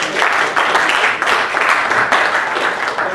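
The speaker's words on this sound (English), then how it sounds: "before we give them the customary ISIS round of applause" An audience at a science and policy talk on flooding in India gives a round of applause, dense and sustained clapping filling the room.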